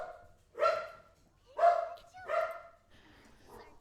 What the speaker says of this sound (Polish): denerwuje mi pies od rana